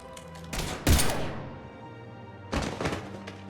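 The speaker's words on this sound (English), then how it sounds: "Now open fire!" Gunfire in Mass Effect 3: two heavy, booming shots early on, each with a trailing rumble, then a rattling burst of several closer impacts, all loud over a steady humming game ambience.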